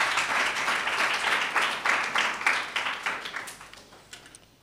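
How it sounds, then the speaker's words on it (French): An audience at the finals of a national debate and eloquence championship applauds the coach of the 2023 senior-category champion team, with dense steady clapping that swells and then gradually thins and fades out. "On l'acclame également."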